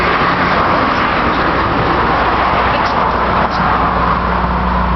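A wood-gas powered truck with a six-cylinder engine drives along. It gives a loud, constant engine and road drone that holds steady throughout, with no talking.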